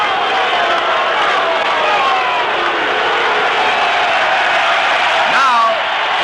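Baseball crowd at RFK Stadium roaring and cheering through the Washington Senators' final game against the Yankees, a dense, steady wall of voices with whoops rising near the end.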